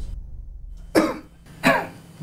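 A man in an Indonesian television drama coughs twice, two sharp, close bursts about a second apart, the second followed by a throaty rasp, with quiet room tone between.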